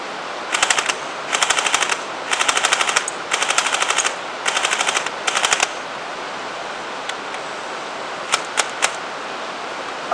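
An M41 airsoft gun fires on full auto in six rapid, loud bursts of crackling shots, followed by a few scattered single clicks after the magazine runs dry.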